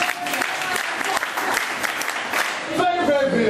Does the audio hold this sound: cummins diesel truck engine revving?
no